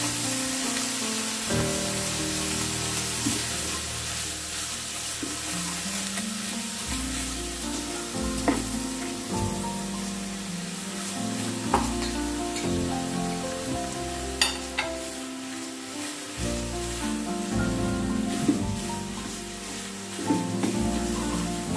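Grated coconut and milk cook in a pan for coconut laddu (narkel naru), sizzling and bubbling with a steady hiss while being stirred slowly, all under continuous background music.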